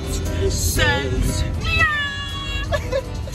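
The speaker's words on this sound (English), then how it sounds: "The cat says," A cat lets out several drawn-out, rising and falling meows in close succession, loud and near, with brief human vocal sounds between them.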